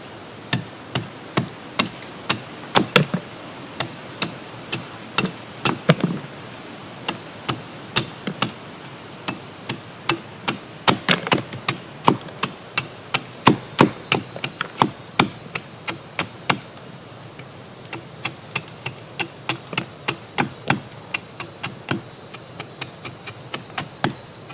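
A blade chopping dry wood set on a log, sounding as a long series of sharp, evenly spaced cracking strikes, close and distinct, with brief gaps between bursts and no talk.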